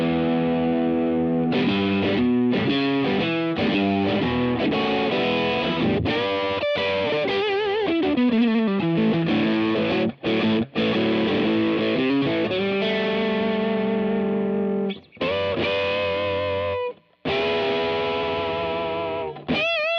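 Distorted electric guitar, a Fender Custom Shop Custom Deluxe Stratocaster, plays a busy run of chords and single notes with wavering bends, thick and sustained, with a couple of brief pauses.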